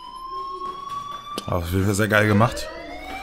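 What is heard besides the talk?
fire alarm in the video game Life Is Strange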